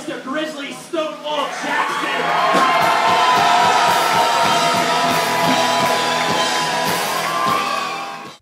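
An audience at a beard and moustache competition erupts in loud applause, cheers and whoops for a crowd favourite, building within two seconds into a sustained, dense roar of shouting and clapping.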